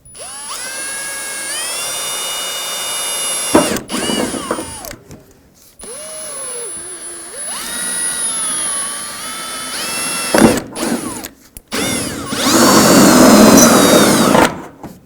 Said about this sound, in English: I'm going to make a hole here where the push clip used to be